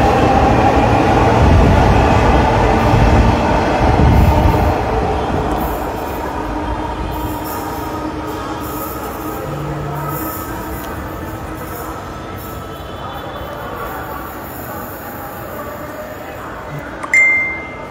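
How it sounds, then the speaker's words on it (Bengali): A Dhaka metro rail train runs at Dhaka University station, a loud rolling rumble with wheel and track noise that is heaviest in the first seconds, then settles into steadier travel, with a short metallic clank near the end. "ঢাকা বিশ্ববিদ্যালয় মেট্রো রেল স্টেশন থেকে সেই স্বপ্নের মেট্রো রেল ছুটির দিনেও ছুটে চলছে"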